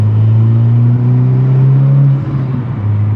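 A 2021 Honda Civic Type R fitted with a MAPerformance street exhaust drones loudly and close as revs fall and rise again, a deep steady engine note with no talking.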